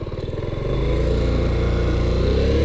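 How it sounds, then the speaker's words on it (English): A 1984 Yamaha Riva 180 scooter engine running steadily, a rapid even putter that settles into a fuller, louder drone after a moment, close by and without talk. "Not touching the throttle, and it is idling super steady."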